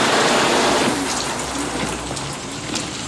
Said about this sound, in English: Right now, it's pouring rain.